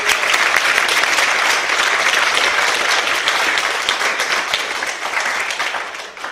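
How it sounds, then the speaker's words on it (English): Listeners at an entrepreneur career-day business talk give sustained applause, a full, even roar of many hands clapping that holds steady and fades a little near the close. "Let's give those people a round of applause."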